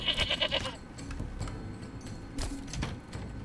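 Goats bleat in the medieval city-builder game Manor Lords, a quick run of short bleats up front, then soft scattered calls and rustling ambience at low volume.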